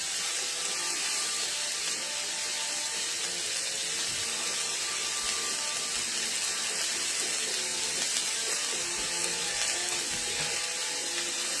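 Kitchen tap water running steadily while fresh cilantro is rinsed, a continuous close hiss and splash with no break throughout.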